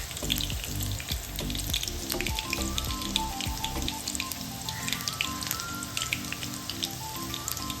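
Green chillies fry in hot oil for farali chivda, a close, steady crackling sizzle with scattered sharp pops throughout, and no voices.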